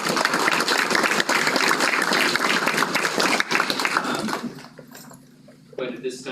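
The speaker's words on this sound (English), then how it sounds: "So I wanna give those people a little round of applause for putting in extra time." Audience applause at a school district board meeting, steady dense clapping from a room full of people that fades out after a few seconds, followed by a short burst of speech.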